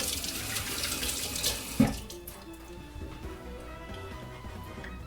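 A kitchen tap runs steadily while hands are washed during French toast preparation, a close, continuous splashing hiss with a brief louder splash partway through.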